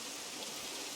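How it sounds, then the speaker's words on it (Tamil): Rain falls in the Minecraft video game as a faint, even hiss of steady downpour with no other sounds. "மழையாக இருக்குது."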